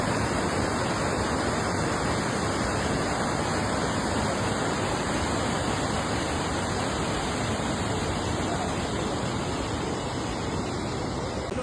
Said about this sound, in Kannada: ಚಂದ ಹರಿತಾ ಇದೆ ನದಿ.